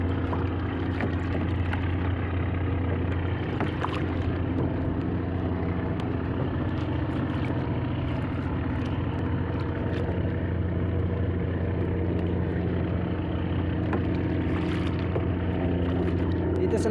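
A boat engine runs steadily out at sea beside a ship during a diving trip, a constant low droning rumble with washing water and wind noise, loud and unbroken throughout.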